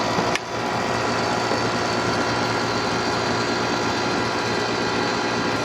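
Air conditioner motor running steadily after being switched on, a continuous broadband hum with a low tonal drone, following a brief click at the start; no voices.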